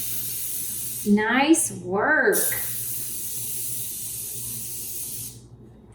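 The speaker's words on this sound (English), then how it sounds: "Spray it all in there." An aerosol spray can hisses into a bundt pan in a home kitchen in a long, steady burst of several seconds, following brief talk from people nearby.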